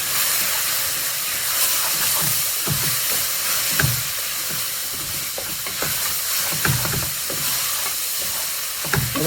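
Pork chops sizzle in a hot pan with a steady, loud hiss throughout, broken by scattered crackles and pops.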